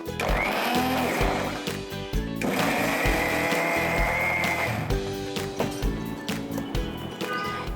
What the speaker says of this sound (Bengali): আমি চেষ্টা করছি এটাকে পানি ছাড়া কিভাবে ব্লেন্ড করা যায়।